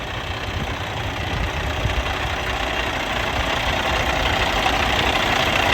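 A 2019 Kenworth W900L day cab truck with an X15 500 Cummins diesel engine idling, a steady low rumble with a faint knocking pulse, continuous and fairly close, no talking.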